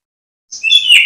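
A young sogon ijoan bird chirps in a short burst of several high, thin tweets that start after a brief silence and grow louder and more continuous, close and alone.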